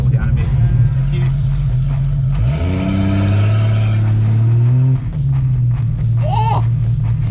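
Turbocharged Holden VY Commodore on a drag strip run, a loud, close engine roar that climbs through a gear change and holds steady at high revs, with excited voices over it.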